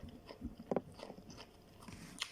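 Close, quiet bites and chewing of crunchy cucumber eaten with tuna, tomato, lemon and salt, with a few crisp crunches standing out amid soft mouth sounds.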